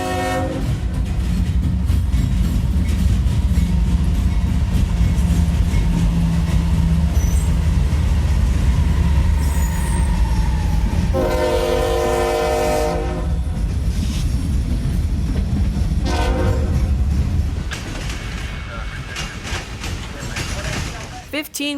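Freight train X649, an extra from Birmingham, Alabama to Waycross, Georgia, passes behind a Dash 8 locomotive, a loud rumbling roar with horn blasts and rolling wheel clatter that eases toward the end; a voice talks over it.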